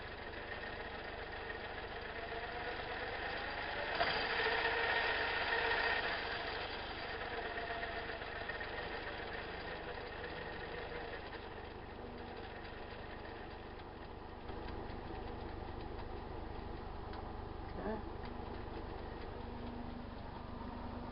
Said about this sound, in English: the pulse width modulation is working for running the motor